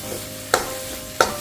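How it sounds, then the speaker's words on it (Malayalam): Semolina cooks in a pan for Kerala-style upma as a spoon scrapes through it in two distinct strokes over a low background hiss. "നമ്മൾ ഇളക്കി ഇളക്കി അത് സെപ്പറേറ്റ് ചെയ്യണം നല്ല രീതിയിൽ നമുക്ക് ഇളക്കി കൊടുക്കാം"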